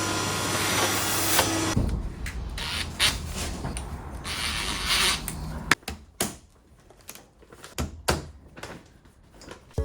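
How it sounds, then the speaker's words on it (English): A 3D printer prints parts in time lapse, giving a continuous mechanical whir at first and then a run of quick, irregular clicks, ticks and scraping movements. "Now here is a time lapse of these pieces being printed."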